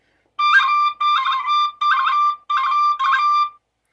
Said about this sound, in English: On the tin whistle, I can easily do a cran.